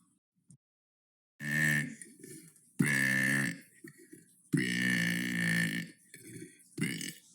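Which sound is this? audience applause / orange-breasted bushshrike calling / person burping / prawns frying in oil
person burping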